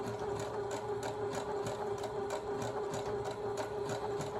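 A sewing machine running a blanket stitch on a St. Patrick's Day placemat, a steady close whirring motor with a rapid, regular needle clatter throughout.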